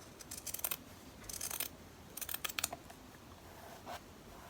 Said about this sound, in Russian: Я вырезаю прямоугольник.